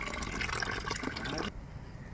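Rice is washed under a running kitchen tap, a soft, steady rush and trickle of water close by that cuts off abruptly near the end.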